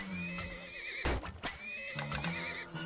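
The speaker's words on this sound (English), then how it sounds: "We get a couple more horses." Horses neigh and whinny repeatedly in the video game Turmoil, with loud bursts over a steady backdrop of game sounds and clip-clopping hooves.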